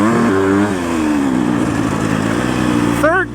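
A Husqvarna FC250 dirt bike engine, a KTM-based motor, revs high through third gear with a rising, whining pitch that climbs, dips and surges again. A voice may be talking over it.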